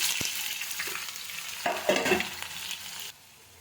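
Chopped onions tossed into hot oil with mustard seeds and curry leaves for a tomato curry sizzle and crackle as they are stirred, the frying swelling briefly before cutting off abruptly; no talking.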